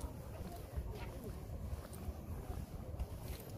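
Wind blows across the microphone in a rose garden in Bucheon, giving a steady low rumble and gusty noise, with faint voices in the background.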